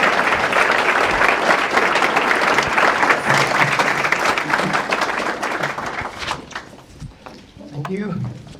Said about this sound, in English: So please help me give a warm CCA welcome to Dr. Larry Arnn.